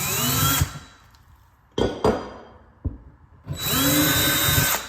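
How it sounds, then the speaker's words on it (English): A power drill whines loudly in two bursts while boring a slightly larger hole in a wall for a shelf-bracket anchor, separated by quieter knocks and clicks of handling. "I need to drill a little bit bigger hole."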